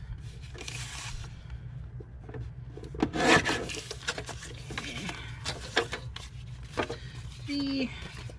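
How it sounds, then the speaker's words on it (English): Card is cut and trimmed into botanical sample tags at a craft table. Close, scratchy snips and rubbing strokes come in irregular bursts over a low background hum, with a voice briefly heard. "cut the top off so I can then cut these into manageable tags"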